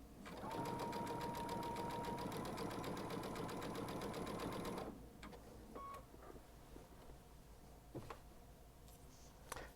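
A Baby Lock sewing machine with a 7 hole cording foot stitching a quilt sandwich, a fast steady rattling whir for about five seconds that stops abruptly, followed by faint clicks and handling noises.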